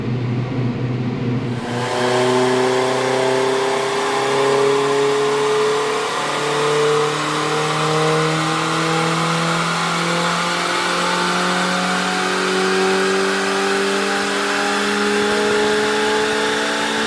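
An Audi S3 1.8T 20v with a big Garrett turbo revving on a dyno, the engine note climbing steadily in pitch through a long, loud, sustained pull after a brief quiet start, with no talking.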